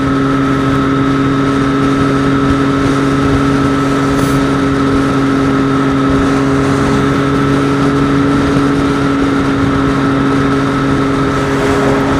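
Triumph Street Triple 765 motorcycle engine while riding on a cool morning, a steady, loud, close droning hum with unchanging tone and constant wind noise, no talking.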